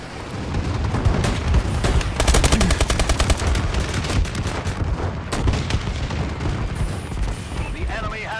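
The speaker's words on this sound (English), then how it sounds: "Enemy bombing run overhead." An enemy bombing run strikes in the video game Call of Duty: Advanced Warfare, with loud, dense rolling explosions and rapid machine-gun fire that swell and fade over several seconds, and a voice speaking over the barrage.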